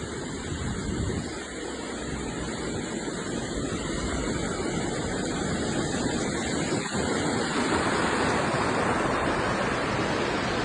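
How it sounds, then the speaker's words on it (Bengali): Waterfall water rushing down a roadside mountain stream in Switzerland, a dense, steady roar that stays at even volume throughout with no voices. "ঝর্ণার পানি যাচ্ছে"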